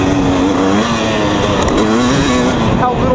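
A 2020 KTM 250 SX two-stroke dirt bike engine revs loudly and continuously up close, its pitch rising and falling with throttle over a few seconds, no talking.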